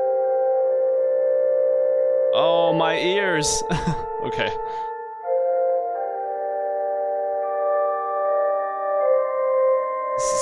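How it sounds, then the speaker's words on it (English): Loud, sustained organ chords from the video game Kentucky Route Zero hold steady for the whole stretch, and a voice talks briefly over them near the middle. "If you are hearing organ music,"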